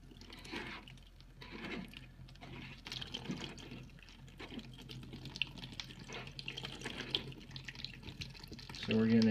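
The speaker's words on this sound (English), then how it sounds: "So we're getting it draining" A washing machine drain empties, with water pouring and gurgling into a bucket in a continuous, moderately quiet stream, and a louder swell of flow near the end.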